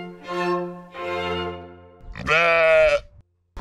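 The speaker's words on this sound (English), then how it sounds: "I like sheep." Sheep bleating loudly and close by, three drawn-out wavering calls in succession with short pauses between, the last one the loudest and harshest.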